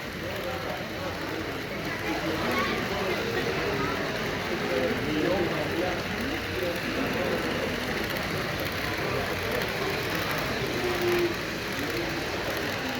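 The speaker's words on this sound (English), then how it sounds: "Here comes another, that's the BNSF train." HO scale BNSF model train running on a modular garage layout at a model train show, a steady rumbling rolling noise under a busy crowd ambience throughout.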